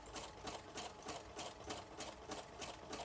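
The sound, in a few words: sewing machine stitching cotton lace onto a junk journal page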